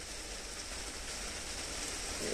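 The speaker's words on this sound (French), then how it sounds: "il y a de la pluie" Rain falls outdoors as a steady, even hiss of fine drops, fairly faint and unbroken from start to finish, with no voices.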